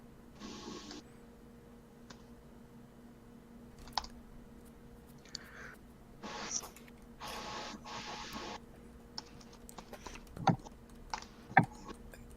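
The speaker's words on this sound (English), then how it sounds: "Give me a second, I'm still typing these." Scattered bursts of keyboard typing and clicks, quiet and close, with pauses between short runs of keystrokes in a calm room.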